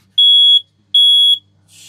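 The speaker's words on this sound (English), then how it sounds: "We'll test the smoke alarms." Two loud, shrill electronic beeps from a FireAngel smoke alarm being tested in a caravan, each about half a second long, evenly spaced, close by, with a brief rustle afterward.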